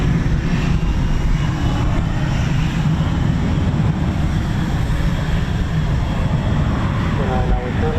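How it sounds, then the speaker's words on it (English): F-18 fighter jets flying at RAF Waddington give a loud, continuous broadband roar that fills the whole clip, with faint voices underneath. "But hey, look, we've got F-18s."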